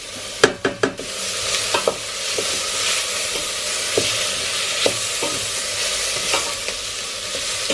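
Chopped garlic cloves sizzling in a pan, a steady frying hiss broken by a quick cluster of sharp utensil knocks near the start and occasional spatula taps after, close by.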